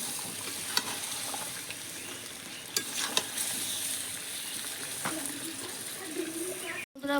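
Chicken pieces with a cashew paste sautéing in a kadai for Bengali korai chicken, a steady low sizzle with occasional stirring scrapes and clinks throughout, close up and fairly quiet, with a brief dropout near the end.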